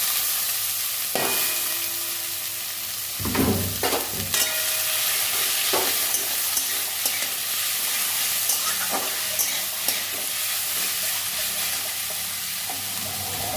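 Potato greens (alu shak) tipped into a pan with hot oil and green chillies, with a loud, dense, hissing sizzle that swells as they go in and continues steadily under occasional spatula knocks, no talk.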